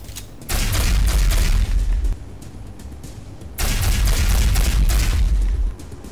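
A heavy gun in the Osiris New Dawn survival game fires two long, loud booming blasts, each a sustained rumbling roar lasting about a second, separated by a short pause.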